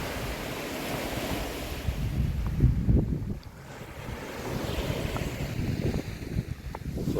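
Sea waves wash into Church Ope Cove on Portland, Dorset, a steady close surf with broken swells and gusty wind buffeting the microphone throughout, with no voices.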